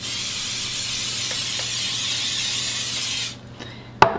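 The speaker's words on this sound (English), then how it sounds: "I think I'll spray the bottom too" A steady, close hiss of cooking oil spray on potato skins runs for about three seconds, then stops, followed by a sharp knock.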